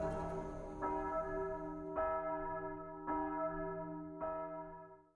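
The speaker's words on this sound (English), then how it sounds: "at this point, you can actually hear the sounds of bells" Four slow, evenly spaced strikes of deep church bells in a game scene, each ringing out loud and then decaying under the next, with no talk.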